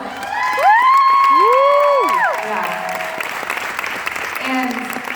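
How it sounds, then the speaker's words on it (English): An audience at an award event for top directors breaks into loud applause and cheering, with whoops rising over the clapping while high tonal shouts or music sweep across the first few seconds, then the crowd noise settles to steady clapping. "I want you to get a round of applause."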